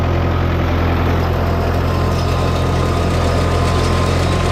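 Tractor engine pulling a hay mower in fourth gear, low range, in the rain, a steady loud low drone with constant vibration throughout.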